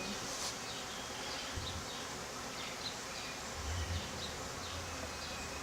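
Honeybees hum around a newly installed beehive in a steady close swarm buzz that holds all the way through, with individual bees droning past.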